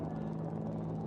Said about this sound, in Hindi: इंडिया गेट के ठीक पास पहुंचते हुए अजय फॉर्मेशन में 3 अपाचे हेलीकॉप्टर विक्ट्री फॉर्मेशन में